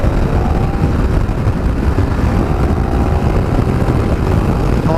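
A 2017 KTM 1290 Super Adventure S motorcycle accelerates hard, its engine a steady, loud, broadband roar mixed with rushing wind, continuous for the whole stretch with no talking.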